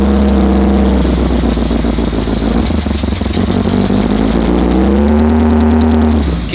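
A 1955 GMC truck engine runs steadily at a low idle with a slight rise and fall in pitch, close and loud throughout, with no talk over it.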